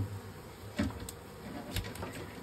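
Bees from an opened hive during a re-homing hum in a steady, moderately close drone, with a couple of brief louder passes by individual insects.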